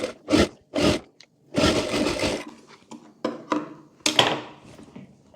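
A sewing machine stitches tucks on a short summer kurti in several short, loud bursts of whirring, stopping and starting with pauses between runs and no voice.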